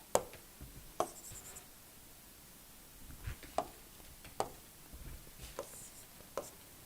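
A pen taps and scratches in short, faint strokes at irregular intervals during a quiet lecture on reaction steam turbines, each mark a soft click with near silence between.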